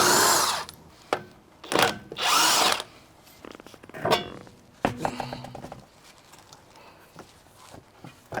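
An impact gun or power tool spins off the lug nuts on a wheel of an RA28 Celica fastback, giving several loud close bursts of whirring with clanks and handling noises between them.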